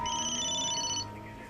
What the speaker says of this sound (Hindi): बार बार उस लड़की का फोन बज रहा है।